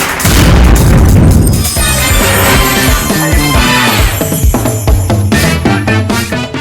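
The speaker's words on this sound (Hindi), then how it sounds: "गाजा पट्टी के रिहायशी इलाकों में इजरायली बम गिरने का वीडियो आया सामने" A loud, heavy blast from an Israeli bomb striking a residential building in Gaza, a dense booming roar that fills the first seconds and then rumbles on with crashing, clattering debris, no talk over it.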